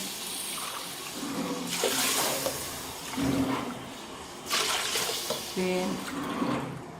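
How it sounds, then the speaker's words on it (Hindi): Four cups of water poured into a pot of roasted masala with moong dal and chana dal, several splashing gushes a few seconds apart, close and fairly loud, with a voice speaking in between. "ये वाली 4 प्याले अब हम पानी के डाल देंगे।"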